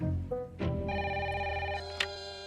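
A telephone rings in a cartoon scene, a bright electronic bell tone sounding loud and close over a faint background, with a short knock-like tap near the start.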